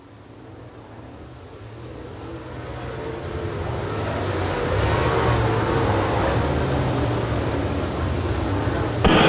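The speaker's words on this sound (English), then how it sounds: "Perry glued to the Bergdorf back bumper down the backstretch into turn number 3" Late model dirt race cars roar around Quincy Raceways in an UMP feature, a dense, continuous engine drone that swells louder as the field passes, with a broad wash of distant track noise.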